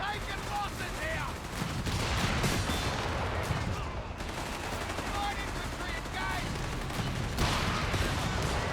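A creeping artillery barrage in Company of Heroes 3 mixes with dense, continuous battlefield fire. Rapid gunshots and rumbling explosions layer into a loud, unbroken roar throughout, and commentary talk runs underneath.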